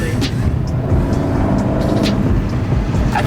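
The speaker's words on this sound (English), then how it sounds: "you can hear the turbo" Turbocharged engine of a 10th gen Honda Civic Si held at brake boost, a steady loud low rumble with a faint turbo whine on top, heard from inside the car.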